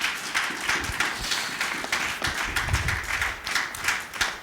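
A church congregation claps in steady rhythm while acclaiming God, a dense, even patter of many hands that keeps going throughout.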